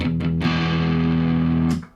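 An electric guitar chord through a distortion pedal rings out thick and saturated, sustaining loudly for under two seconds before being cut off.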